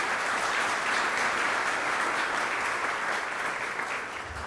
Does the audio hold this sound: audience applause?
yes